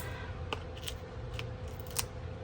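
Scissors snip out a paper card piece cut from a template during card making, giving a few crisp, close cuts spaced across a quiet room with no talking.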